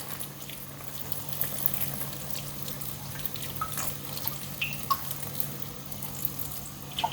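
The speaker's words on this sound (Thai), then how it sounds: "เติมน้ำให้น้ำท่วมนะคะ" Water is poured into a pot of coconut milk soup with salted fish and tamarind leaves, a steady, close pouring and splashing that runs throughout with no talking.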